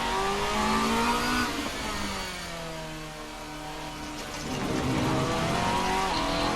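An RSS GTN Group N-GT race car engine in a racing sim game revs and climbs through gears, its rising whine dipping between shifts, loud and close with no talking.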